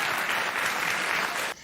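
Studio audience applause on Real Time with Bill Maher, a dense, steady wash of clapping that fills the clip before cutting off abruptly near the end.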